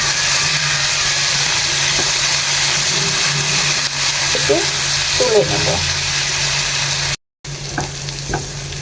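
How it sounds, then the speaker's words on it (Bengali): Washed, cleaned prawns fry in a pan, giving a loud continuous close sizzle with occasional spatula scrapes and a brief dropout, while a voice speaks briefly near the end. "দিয়ে দিচ্ছি আগে থেকে ধুয়ে পরিষ্কার করে রাখা চিংড়ি মাছ, ভেজে নিচ্ছি।"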